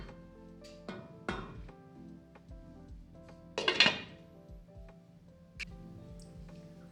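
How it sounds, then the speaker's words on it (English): Spoon scrapes and taps against a pot as callaloo rice is mixed, with scattered clinks and one louder rattling scrape in the middle. "so I'm going to mix it in."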